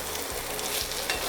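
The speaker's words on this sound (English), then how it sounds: "carrots and onions are looking beautiful" Carrots and onions fry in a small frying pan with a close, steady crackling sizzle and faint stirring scrapes throughout.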